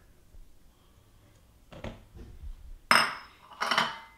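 A utensil scrapes and clinks against a mixing bowl while softened butter is scooped into it for chocolate chip cookies. A few soft scrapes are followed by two bright, close metallic clinks.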